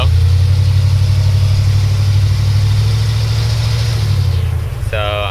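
A 1990 Ford E-150 Econoline van with a 5.8L engine and E4OD transmission that will not shift into 3rd or 4th revs hard in second gear, holding a loud, steady drone at high RPM, then eases off near the end.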